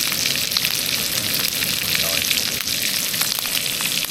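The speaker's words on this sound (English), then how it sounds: "Frying up some steaks." Loud, continuous sizzling of steaks frying in a hot pan, with crackles and pops throughout.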